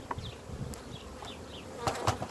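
A steady hum of many honey bees buzzing together in a vertical hive, with a few louder passes of individual bees drifting close by.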